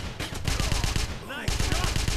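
Rapid automatic gunfire in the Wolfenstein video game: a loud, steady stream of close shots that breaks off briefly for a moment and then starts again at the same fast rhythm.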